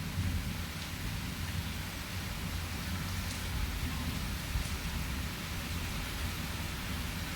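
Rain falls outside a home, a steady dense hiss of droplets on surfaces that holds evenly throughout with no voices.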